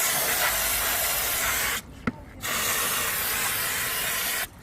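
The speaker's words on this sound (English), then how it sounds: "you want to blitz the whole stuff in brake clean." Brake cleaner sprayed onto the brake parts of a Vauxhall Corsa D during a wheel cylinder change, two long loud hissing bursts close up, split by a short pause with a click.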